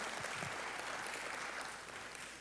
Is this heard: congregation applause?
yes